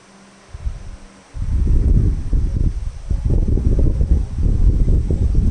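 Wind blows outdoors with low, rumbling gusts buffeting the microphone. It starts quiet, then surges after a second into sustained, loud, uneven blustering.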